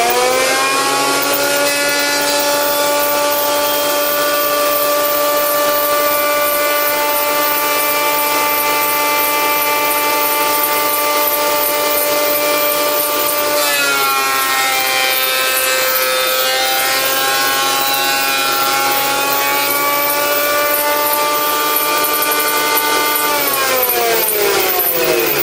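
A wood board runs through a thicknessing machine, a loud sustained whine and rasping cut lasting over twenty seconds, the pitch dipping and shifting midway as the blades catch, with no talking.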